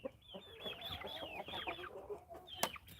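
Chickens on a farm cluck and squawk in quick, overlapping calls close by, a busy flock chatter with a young rooster among them and one sharp louder squawk near the end.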